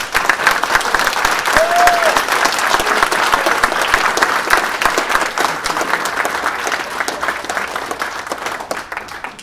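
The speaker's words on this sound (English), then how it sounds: "So can you guys all give a round of applause?" Sustained applause from a panel discussion audience, dense and steady clapping filling the room for the whole stretch, with a brief murmur of voices mixed in.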